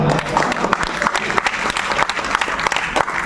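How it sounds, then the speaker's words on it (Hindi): Loud audience applause at a mushaira, a close, energetic burst of many hands clapping with distinct sharp claps standing out in an uneven rhythm, sustained throughout without speech. "एक बार जोरदार तालियों के साथ"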